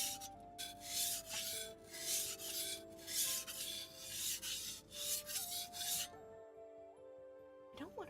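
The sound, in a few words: sharpening a blade on a whetstone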